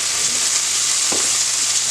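Shrimp with onions, curry powder and black pepper sizzles in a pan, a steady bright frying hiss throughout with one brief stir or scrape just past the midpoint, close and fairly loud with no voices.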